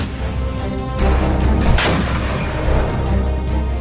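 A Russian tank fires at Ukrainian positions with one heavy, close blast midway that rolls into a low rumble, set against steady engine noise and no speech.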